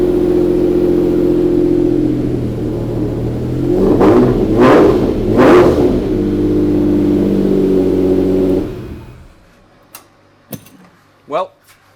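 A Lamborghini Diablo SV engine fires up and settles into a loud, steady idle, with three sharp revs in the middle before it falls silent; a brief voice follows at the end.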